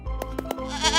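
A cartoon goat bleats in a few short, bright wavering bursts, loud and close, followed by a rising musical tone.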